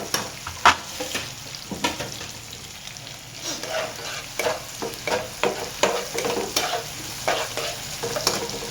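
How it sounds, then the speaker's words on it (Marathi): Chopped onions sizzling in a hot pan for a fried brain masala, with repeated scraping stirs of a spoon breaking through a steady close frying hiss. "कांद्याला पण चांगला आपण खरपूस भाजून घेऊया."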